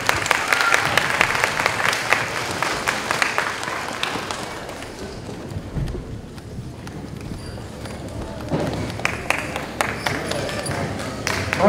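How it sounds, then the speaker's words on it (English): Applause from an audience at a school leadership awards program, sustained dense clapping that swells, dips slightly midway, then builds again. "Y'all can still give him a round of applause."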